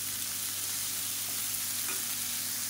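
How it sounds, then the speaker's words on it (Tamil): Diced tomatoes sautéing in a pan with salt for kara chutney give a steady, soft frying sizzle throughout, fairly faint and even, with no talking. "இப்போ பாருங்கள், தக்காளி நல்லா வதங்கிடுச்சு."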